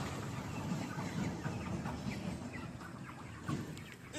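Five hundred 34-day-old broiler chickens fill a poultry farm shed with a dense, continuous low murmur of clucking, faint and steady throughout.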